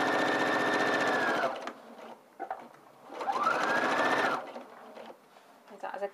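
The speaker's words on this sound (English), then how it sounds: "I'm now at my machine and sewing the back pocket onto the lining of the pocket" A sewing machine runs in two bursts, stitching a back hip pocket onto its pocket lining, with a short quiet gap between the runs and faint handling sounds after the second.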